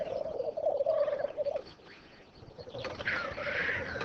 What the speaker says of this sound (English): Black grouse are performing on their display sites, competing for the attention of the hens.